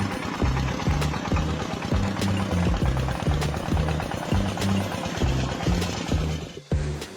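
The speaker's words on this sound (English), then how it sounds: "A walk-behind tractor pulls potatoes out of the ground as it moves across the garden" A walk-behind tractor chugs steadily while digging potatoes in a garden, its small engine throbbing in a fast regular rhythm at close range, with a brief dip in noise near the end.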